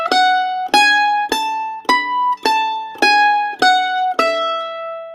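A mandolin plays the opening movement of a finger exercise, eight evenly spaced picked notes, each one clear and ringing, moving stepwise up and back down, close and solo.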